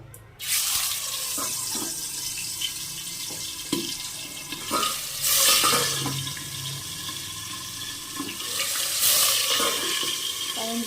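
Pieces of boal river fish sizzle and spatter as they are dropped one by one into hot oil in a pan, with a steady frying hiss and occasional louder bursts of crackling.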